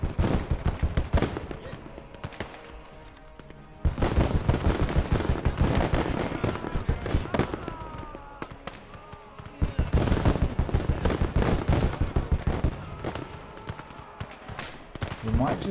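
Flak guns and other weapons fire in the video game Close Combat, rapid bursts of gunfire and explosions in repeated waves, with someone talking over the battle.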